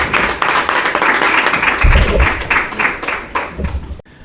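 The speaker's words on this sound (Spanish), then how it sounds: "lo que sí que os pido un gran aplauso para Manuel Bejarano y Julio Pérez Ruiz" Audience applause for book authors Manuel Bejarano and Julio Pérez Ruiz at a book presentation in a cultural centre, steady crowd clapping that continues for several seconds before cutting off abruptly.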